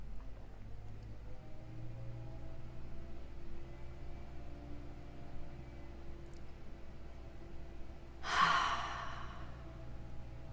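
Deep breathing during a guided meditation, with one soft, breathy exhale rising near the end after a long stretch of quiet room hum, and no talking.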